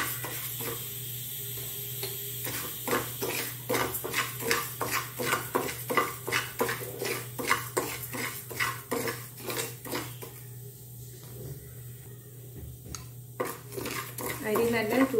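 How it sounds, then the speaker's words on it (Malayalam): Ponni rice is dry-roasted in a pan and stirred, producing a steady run of rhythmic scraping and clinking strokes of a utensil against the pan, close and moderately loud. "അരി നല്ല ചൂടായി വരുന്നുണ്ട്"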